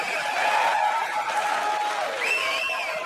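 Stand-up comedy audience cheering and applauding in a steady, loud wash of clapping and whoops, with a few shrill voices rising near the end.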